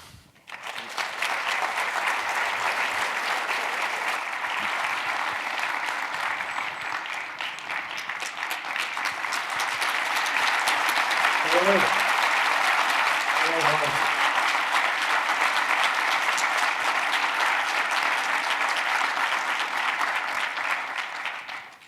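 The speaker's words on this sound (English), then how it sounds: "I'm pretty sure that applause is for you," An audience at a Harvard data privacy symposium keeps up a long, steady round of applause that fills the hall, swelling slightly midway. A couple of brief voices come through faintly under the clapping.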